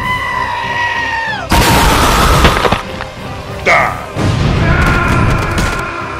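An explosion in the Roblox game Brookhaven lands as a loud, abrupt noisy blast, and several more chaotic bursts and crashes follow over a few seconds, with no speech.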